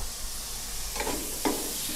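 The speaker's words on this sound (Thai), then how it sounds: "ขั้นตอนนี้ผัดเลยครับ" Chinese sausage stir-fried in about two tablespoons of oil in a pot for baked rice: a faint, steady sizzle with a couple of soft scraping stirs, no voices.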